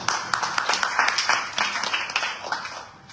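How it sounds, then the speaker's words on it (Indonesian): A church congregation claps for God, scattered distinct claps forming short, uneven applause that fades out toward the end. "Tepuk tangan buat Tuhan."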